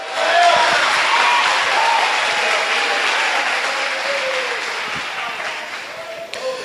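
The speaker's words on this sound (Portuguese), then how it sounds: "Aplaude a Jesus de Nazaré." Church congregation at a thanksgiving service applauding loudly, a thick continuous roar of clapping that peaks early and slowly tapers, with faint voices mixed underneath.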